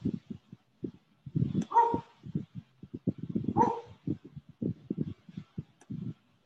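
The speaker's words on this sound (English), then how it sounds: "That dog." A dog barks in a quick series of short, sharp woofs mixed with a couple of higher yelping whines, fairly close and alone, with no talk.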